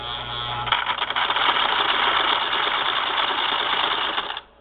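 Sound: 1959 Singer Spartan sewing machine motor clacking

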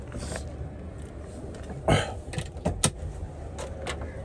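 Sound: opening the rear door of a 1998 Toyota Land Cruiser

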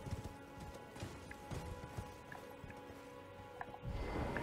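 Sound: horse riding uphill in Elden Ring video game

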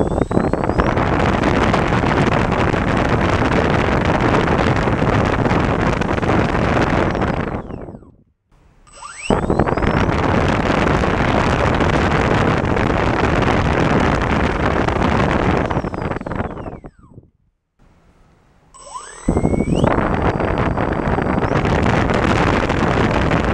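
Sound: Hextronik and Turnigy 2730 brushless motors spooling up

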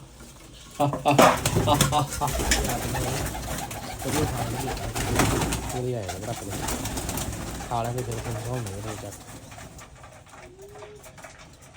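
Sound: pigeons cooing

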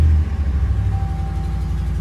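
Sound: 2016 RAM 1500 truck engine starting

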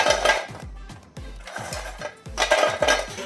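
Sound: crispy moong dal and flour snacks poured into a mixing bowl

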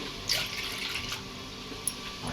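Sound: water being poured into a glass

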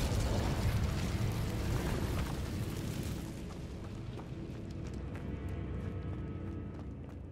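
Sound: Incendio fire spell cast in a video game

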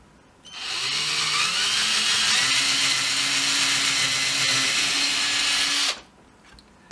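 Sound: power drill drilling a hole through wood

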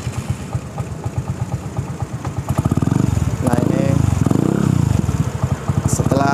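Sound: Vespa matic scooter engine started and running

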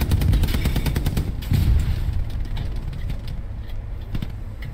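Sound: gunfire in the video game Hell Let Loose

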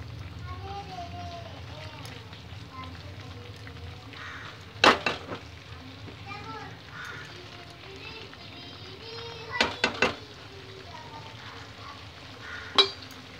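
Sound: spice paste frying in a pan

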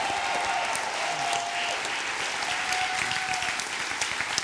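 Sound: church congregation applause

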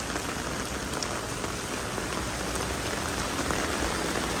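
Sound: heavy rain falling

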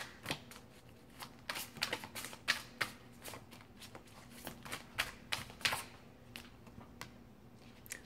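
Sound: shuffling psychic tarot cards

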